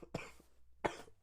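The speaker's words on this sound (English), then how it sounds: "I coughed. I did not sneeze." Two sharp coughs from a person during a casual podcast-style conversation, spaced well apart, close and fairly loud against a quiet room.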